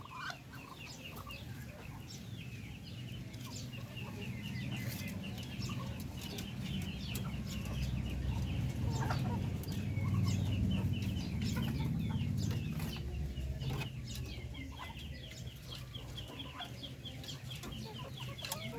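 Hens clucking softly while feeding on free scraps, a steady cluster of overlapping low clucks and chatter from a nearby flock, with a faint rustle of movement beneath.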